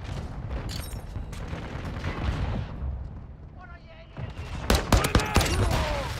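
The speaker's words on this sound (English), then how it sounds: "Hostile mortar strike near your position." A mortar strike lands in Call of Duty: Modern Warfare II, with a rumbling battle backdrop giving way to a cluster of loud, sharp explosive blasts and crackling gunfire near the end.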